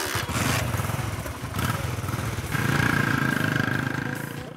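Two motorcycles revving and riding off in the same gear, a loud, close, throbbing engine drone that surges in pulses and builds steadily, with no voices over it.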